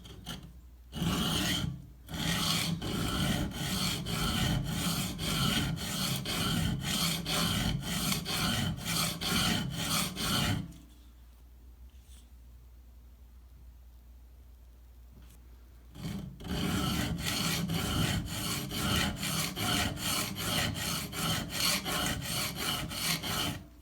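A Cold Steel Recon 1 knife has its damaged tip reground on a sharpening stone in long rhythmic rasping swipes, one steady run of strokes, a pause of near silence, then another run of strokes, close and clear.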